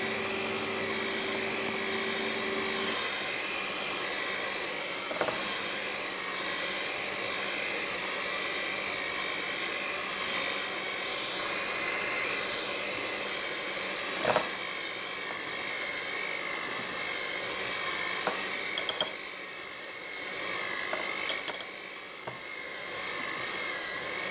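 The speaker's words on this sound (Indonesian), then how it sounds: "Nah, adonan kita mixer sampai menyatu." Electric mixer beating potato donut dough, a steady droning motor whine running continuously with a few brief knocks against the bowl, no speech.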